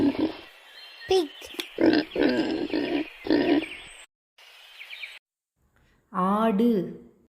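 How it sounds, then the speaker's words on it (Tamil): A pig grunts and snorts in a run of short, throaty bursts, followed by a longer squealing call, with pauses of silence between the sounds. "pig,"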